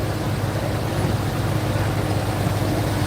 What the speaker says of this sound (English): take a look at that tractor zooming by